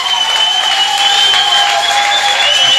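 A church congregation applauding God, a steady, dense wash of clapping and crowd noise that holds at full strength throughout without a break.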